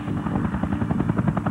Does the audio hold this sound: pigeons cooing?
no